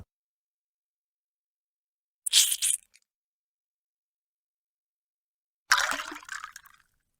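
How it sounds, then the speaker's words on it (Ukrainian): Sodium sulfate solution poured into a glass test tube in a school chemistry lab, two short, quiet splashing bursts separated by silence, each lasting under a second. "У першу пробірку наливаємо декілька мілілітрів розчину натрій сульфату"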